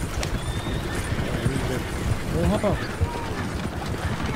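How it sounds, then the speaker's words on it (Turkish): Horses in Red Dead Redemption 2 whinny and clop their hooves amid busy game ambience, with a neigh rising midway and steady hoof beats, while someone talks over the scene. "Is one of you gonna get that fella's horse?"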